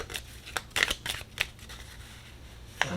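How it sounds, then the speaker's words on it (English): Moon Magic mini cards being shuffled by hand, a handful of soft papery riffles and slaps, close and fairly quiet, with no talking. "So let's go ahead and shuffle."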